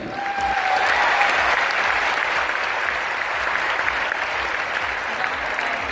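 An audience claps loudly and steadily for several seconds, a dense burst of applause filling the room during a business speech.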